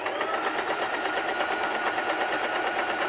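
A sewing machine running at slow speed while stitching a fabric Viking-style hood, giving a steady, continuous mechanical whirr with a fine rapid needle rhythm, close and fairly loud throughout.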